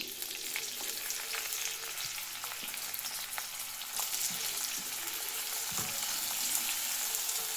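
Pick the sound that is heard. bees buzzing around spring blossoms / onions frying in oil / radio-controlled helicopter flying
onions frying in oil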